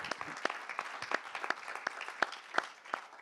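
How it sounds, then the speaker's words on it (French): Sparse applause at a hackathon event, a small number of distinct hand claps at an uneven, loosely rhythmic pace, fairly faint and heard from a distance. "Et vous pouvez l'applaudir"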